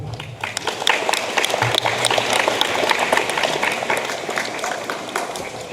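A commencement ceremony crowd claps at a graduation as a name is read out, close, loud and dense hand-clapping that swells quickly and holds steady throughout.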